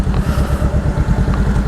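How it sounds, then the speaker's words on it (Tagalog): A motorcycle engine idles in neutral close by, a loud, steady low rumble with a quick regular pulsing throb and light mechanical clatter, no voices. "Ang hirap nitong i-neutral tong motor ko."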